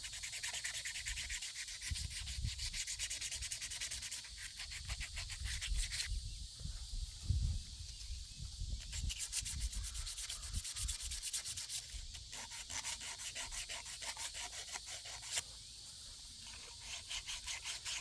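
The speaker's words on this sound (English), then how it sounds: "Got some emery cloth here. I'm going to sand it down." Rough, rhythmic rasping of emery cloth rubbed back and forth on metal while preparing a gasket surface during a water pump replacement, steady and close, continuing without pause.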